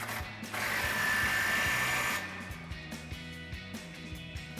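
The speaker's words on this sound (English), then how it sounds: "We're going to tighten this back down using our 27 mil socket and our 24 mil wrench" A 27 mm socket and 24 mm wrench tighten a bolt on the radius arm of a Ram 2500 during a lift install, giving a steady mechanical whir that gives way to a run of evenly spaced ratcheting clicks, close up and quiet.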